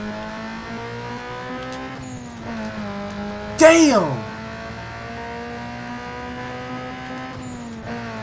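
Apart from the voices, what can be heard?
car turbo spooling in Need for Speed Underground 2 video game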